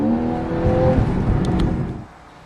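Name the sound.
Porsche 911 seventh generation car driving on test drive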